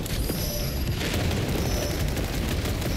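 A grenade blast in Space Marine II, a heavy sustained boom and rumble of battle noise filling the whole moment at steady loudness, with no distinct single impact standing out.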